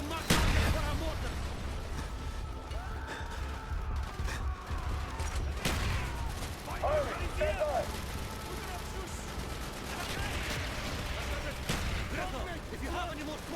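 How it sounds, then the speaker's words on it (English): Mortar and artillery fire from a Call of Duty Black Ops battle, several heavy booming impacts spaced a few seconds apart over a constant rumble of gunfire, with voices talking throughout. "Use your smoke grenade to mark target for our mortar."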